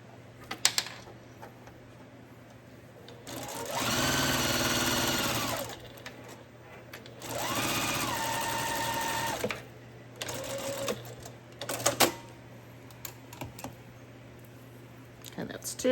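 Sewing machine stitching a fabric liner for a small Longaberger basket, in several steady bursts of a couple of seconds each with short pauses, close and clear over a low hum, with brief talk between runs.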